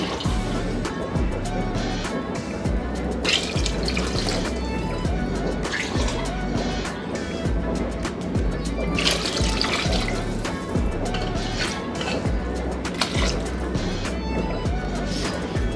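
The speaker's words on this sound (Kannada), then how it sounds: "ಈಗ ಇದಕ್ಕೆ ನಾನು ಒಂದು 4 ಗ್ಲಾಸ್ ಅಷ್ಟು ನೀರು ಹಾಕೋತಾ ಇದ್ದೀನಿ" Water poured into a cooking pot of masala for chutney pulao, a steady running, splashing pour lasting the whole stretch against kitchen background noise.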